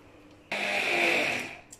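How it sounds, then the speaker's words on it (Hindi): A kitchen grinder blends green chutney with about two tablespoons of yogurt, starting abruptly with a loud whirring roar that holds for about a second before winding down, with no voices. "इसको मैं ग्राइंड करके फिर आपको दिखाती हूँ, ग्राइंड करती हूँ"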